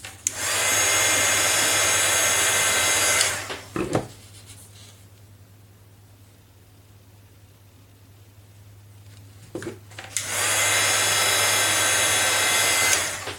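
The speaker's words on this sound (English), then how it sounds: "You can see the difference in the length of time I have to put the heat gun on there, right?" A heat gun blowing over ink on photo paper: a loud, steady broadband whoosh runs for several seconds, cuts off to a quiet hum with faint clicks, then switches back on at full strength, close to the listener.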